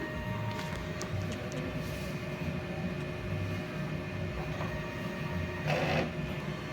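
A DTF printer runs a print head cleaning cycle, a quiet steady mechanical whir with a low hum, faint repeated clicks and a short burst of louder noise near the end.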